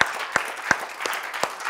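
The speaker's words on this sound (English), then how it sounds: "Give the Lord a hand clap." A church congregation claps together in a quick burst of sharp, roughly regular hand claps, close and fairly loud.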